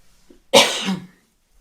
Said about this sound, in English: Don't worry about my coughing.